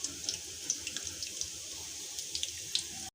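Tap water runs steadily into a sink while food is washed, a continuous faint splashing stream with small drips and clinks scattered throughout.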